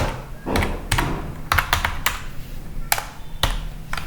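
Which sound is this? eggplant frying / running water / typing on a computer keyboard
typing on a computer keyboard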